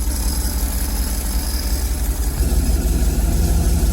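A 1965 Chevrolet van engine idling just after starting, a loud, close, steady low rumble with a rhythmic throb that grows slightly stronger partway through.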